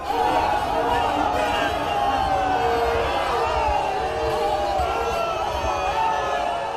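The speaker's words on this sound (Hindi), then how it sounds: "गोदौलिया पर मौजूद सैकड़ों लोगों ने मोदी मोदी के नारे लगाकर उनका स्वागत किया" Hundreds of people gathered at Godowlia in Varanasi chant rhythmic slogans to welcome Prime Minister Modi, a loud, dense crowd roar that carries on steadily throughout.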